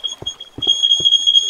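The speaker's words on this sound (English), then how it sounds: "What alarm is that? That's my fire alarm." A household smoke alarm goes off with a steady, piercing high-pitched tone that is interrupted by a few dull knocks and thumps nearby.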